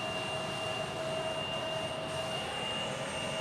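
Embraer jet aircraft at Tucson airport, a steady distant engine roar with high whining tones, constant and unbroken throughout with no talk.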